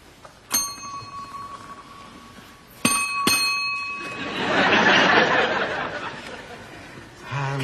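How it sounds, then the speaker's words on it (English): A hotel reception desk bell in a British sitcom lobby rings three times, one clear ding followed by a quick double, each with a ringing metallic tail, then a low murmur of voices. "Ring the bell, Richard."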